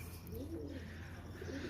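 A breeder pair of large pigeons coos softly and close by in a short, faint stretch, with no voices over it.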